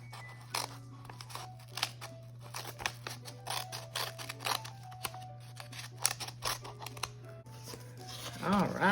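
Scissors snip and rustle through a paper mail envelope, giving several short crisp cuts and crinkles at close range beneath a steady hum, with people talking around the cutting.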